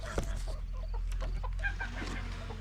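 Geese near a vegetable patch on a smallholding give a string of clucking, honking calls at close range, with steady low background noise underneath.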